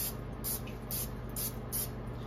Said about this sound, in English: I just use cooking spray